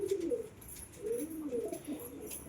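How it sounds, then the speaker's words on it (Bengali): Close, throaty cooing from lotan pigeons feeding on grit, a few short rolling coos in quick succession with light background chirps, no voices. "লোটনের বাচ্চাটাও উড়ে চলে এসেছে গ্রিট খেতে"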